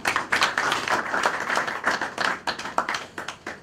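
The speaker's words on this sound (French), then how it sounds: "nous allons l'accueillir avec vos acclamations" An audience at a forum on the democratic process in the DRC claps to welcome a panelist. It is a dense run of individual hand claps, fairly close and moderately loud, with no talking over it.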